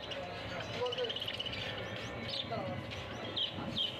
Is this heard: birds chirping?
yes